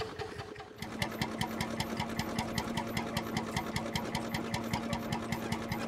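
A rare Lanz Bulldog tractor engine drives a Lanz threshing machine by belt, close and loud, its steady rapid knocking beat running evenly throughout after a brief quieter start.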